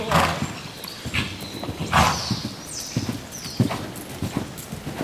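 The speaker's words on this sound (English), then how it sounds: "Like here is a good canter, but every once in a while he'll just want to canter up and down like a little bit." Horse cantering in an arena during a riding clinic, hooves thudding in an uneven rhythmic clip-clop with snorting breaths, moderately close, with occasional faint background sounds.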